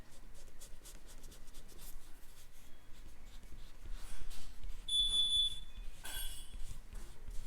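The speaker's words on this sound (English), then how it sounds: "So we're going to erase the pencil mark." Pencil mark being rubbed out with an eraser, soft repeated scratchy strokes up close, with a brief electronic beep partway through.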